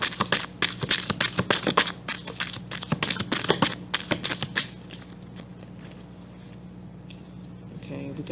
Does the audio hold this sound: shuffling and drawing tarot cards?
yes